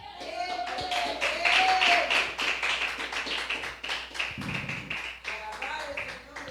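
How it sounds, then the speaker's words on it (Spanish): A church congregation claps in a lively, rhythmic burst lasting several seconds, with voices calling out and a speaker's voice over the clapping. "regalen una ofrenda de aplauso a ese que está sentado en el trono,"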